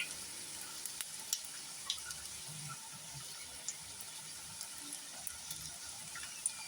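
Arabian stuffed rice roll, just flipped, frying in oil in a pan: a soft, steady sizzle with faint crackles and occasional light ticks, fairly quiet and continuous.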